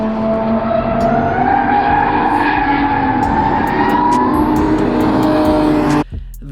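High-revving supercars roar past on a Las Vegas race track, their engines whining up through the gears before the sound cuts off abruptly.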